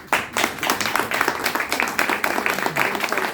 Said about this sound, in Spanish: Quiero pedir un aplauso porque esto es un lujo.